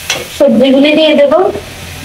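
Mixed winter vegetables tipped into a pan of cooked-down spices and sugar, giving a short burst of sizzling with stirring and scraping that fades after about a second.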